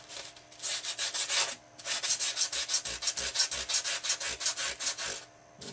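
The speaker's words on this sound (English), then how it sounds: "Sand some of the paint off this foam." Sandpaper rubbing paint off the foam of an RC airplane model in quick, even back-and-forth strokes, close and fairly quiet, with a brief pause before the rhythmic scraping resumes.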